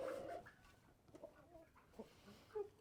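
Chickens clucking on the farm roost at night, sounding unwell; soft, scattered clucks and murmurs come in short bursts, fairly close but quiet.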